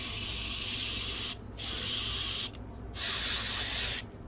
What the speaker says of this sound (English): We'll spray up the tube.